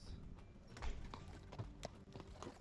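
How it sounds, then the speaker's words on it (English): Horses in the Minecraft game Hypixel Skyblock trot with steady, faint clip-clop hoofbeats and a soft background hum, no voices over them. "I'm gonna show you these freeze horses."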